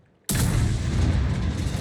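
Artillery gun firing in a tank video game: one sudden loud blast followed by a dense, sustained rumbling roar that fills the rest of the moment, heard alone.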